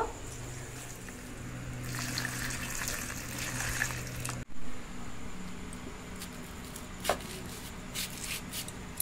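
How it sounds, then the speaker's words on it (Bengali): Peeled raw mangoes being washed under running water, with a steady close-up splash and gush and a few knocks and clatters in between. "আম ছাড়িয়ে নিয়েছি, আমগুলো ধুয়ে নেব।"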